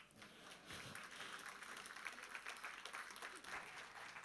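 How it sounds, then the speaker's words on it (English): Conference audience at Flutter Connection 2024 gives a talk its closing applause: continuous, moderate clapping that sounds somewhat distant and lasts several seconds. "you just clapped"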